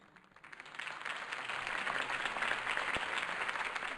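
Crowd applause from the Batman Telltale Series video game, a dense, continuous clapping that swells quickly from quiet and holds steady at a moderate distance.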